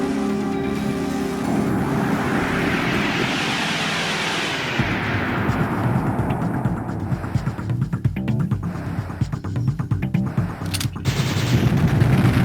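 In Panzer Dragoon Saga, an enemy explodes under fire: a rising rushing sweep gives way to rapid, crackling gunfire and blasts that continue loud and dense to the end.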